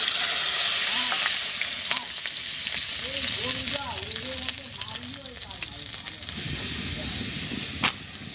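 Whole garlic cloves fry in hot oil in a wok, a steady loud sizzle with scattered pops and stirring scrapes, easing slightly toward the end under faint voices.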